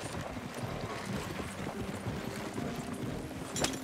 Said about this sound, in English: I see your horse is following us.